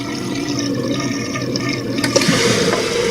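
A toilet flushes up close, water rushing and swirling steadily as the tank drains during fill valve and flapper replacement, with a louder surge near the end.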